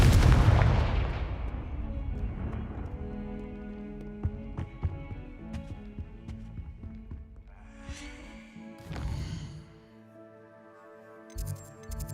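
A Confringo spell blast in Hogwarts Legacy on PS5 bursts with a loud booming explosion, followed by scattered pops, crackles and ringing magical effects fading out, then a few fainter whooshes and blasts.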